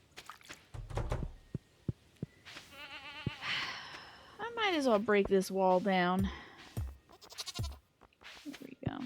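Sheep on a Stardew Valley farm bleat in a run of wavering, nasal cries, several calls overlapping in the middle, with someone talking before and after and some game thuds around them.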